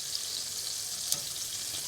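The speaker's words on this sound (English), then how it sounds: "I'm just going to brown some butter." Butter browning in a pan while spinach ravioli is readied for serving, giving a steady, soft, close sizzle with a faint crackle partway through and no voices.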